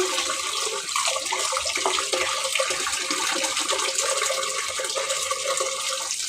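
Tap water runs hard and steadily into a basin where large sea baila fish are being soaked before cooking, a close, continuous rushing splash with no speech.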